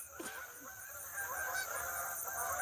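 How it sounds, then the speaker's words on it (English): A flock of geese keeps up a steady honking chorus outdoors in early-fall mountains, the overlapping calls fairly distant and quieter, growing slightly louder toward the end. "we about to get jumped by a pack of geese"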